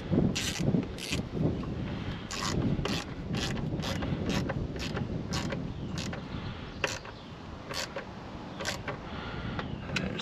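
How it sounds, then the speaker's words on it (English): Ratchet wrench with 5/16 and 10 mm sockets tightening two bolts back down, a close, steady run of rapid clicking strokes with brief pauses between bursts. "We're gonna tighten these two bolts back down."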